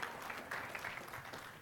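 Brief, faint applause from a small audience at an affiliate marketing conference session, a short patter of clapping that stays steady and low without cheering.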